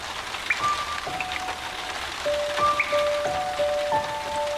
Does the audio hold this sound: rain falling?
yes